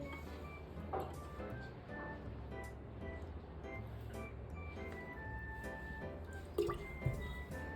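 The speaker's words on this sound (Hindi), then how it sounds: "अब हम थोड़ा पानी और ज्यादा डालेंगे।" Water trickles and drips steadily into a small container used to test an Arduino water level indicator. The sound is soft and close, with a few small knocks near the end.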